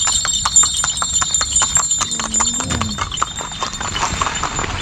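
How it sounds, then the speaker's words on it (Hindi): Hooves of a horse pulling a cart clip-clop in a quick, regular trot on a road, close by, with faint traffic and street noise behind. "सामने घोड़ा गाड़ी आ रही है"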